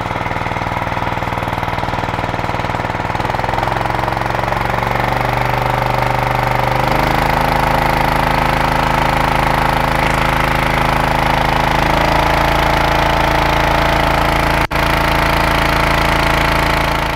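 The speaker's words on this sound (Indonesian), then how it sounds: "Sekarang saya akan melanjutkan putaran mesin ini sampai" An Alkon portable fire pump's engine roars loudly and steadily, then climbs to a higher, harsher pitch as it revs to full speed, with no voices over it.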